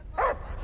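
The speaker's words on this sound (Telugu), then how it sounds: "కుక్కలండి, కుక్కలు ఒంటరిగా కనపెడితే చాలు మీదడిపోతున్నాయి" A single short dog bark, close and fairly loud, rises over a low background rumble in a Telugu comedy film scene where stray dogs menace people.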